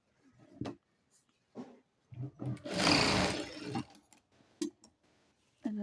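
A sewing machine stitching a petticoat runs in short bursts, with one longer whirring run in the middle, separated by quiet pauses and light clicks of handling the fabric, loud and close.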